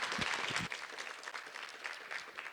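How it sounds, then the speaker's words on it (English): An audience at a literary event gives a faint, brief round of applause, a soft patter of scattered hand claps lasting a couple of seconds. "So another round of applause, please."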